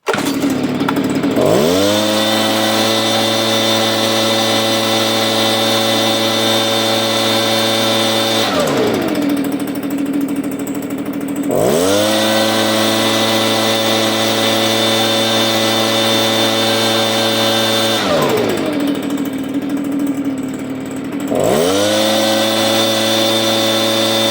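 A two-stroke engine running on seven-year-old stored fuel blends of 100LL avgas and ethanol-free premium drones loudly and steadily, dipping to idle and climbing back to high revs in repeated cycles, with no voices.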